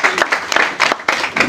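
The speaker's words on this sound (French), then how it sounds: "Ah, applaudissez pour lui." Conference audience applauds a volunteer: a short, dense burst of clapping from many hands in a hall, steady and fairly loud with no talk over it.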